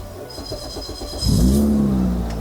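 A Toyota Vios with a 1.8L 2ZZ-GE engine and an Ogura Super Single clutch idles with a rough pulsing burble before the throttle is blipped into one short, loud rev that swells and settles.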